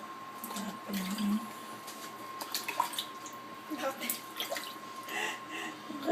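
Shower water running into a bathtub during a child's bath, a steady splashing wash with brief drips and sloshes, while people talk over it throughout.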